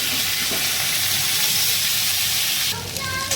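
Ground cumin, ginger paste and two dried chillies hit hot oil while making mung dal, giving a loud, continuous hiss that shifts slightly near the end.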